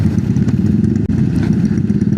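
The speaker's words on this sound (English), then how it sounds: "alah, bising lah pula. Bang, pelankan sikit exhaust." A loud motorcycle exhaust drones steadily at close range, a thick, constant rumble with a brief clatter partway through and no voices.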